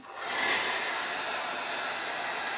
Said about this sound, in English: I better take the hairdryer to that to dry it a little bit